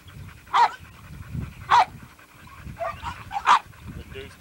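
A dog at a kennel yard barks in short sharp bursts, three or four loud yips spaced across the moment, with steady panting underneath and someone talking over it.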